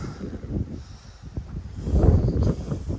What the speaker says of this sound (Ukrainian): Такі трави, вітер колеше.